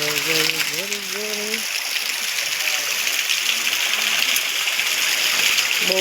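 Rainwater rushes along like a small stream in a village after heavy rain, a steady close hiss of flowing water throughout, with a voice briefly speaking over it at the start.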